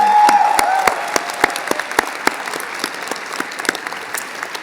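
Close, sustained applause from an audience honoring faculty and staff at a university commencement ceremony, with dense clapping, a few sharp individual claps standing out, and a faint cheer near the start.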